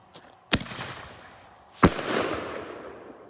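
Two sharp firework blasts at a birthday party, loud and close, the second followed by a crackling hiss that fades, with faint pops before and between.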